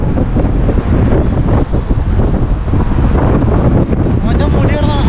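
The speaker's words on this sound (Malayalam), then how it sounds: "നല്ല കാറ്റുണ്ട് കേട്ടോ അവിടെ." Strong wind sweeps across the Sharjah corniche waterfront, a loud, continuous roar buffeting the microphone with gusts that swell and dip throughout.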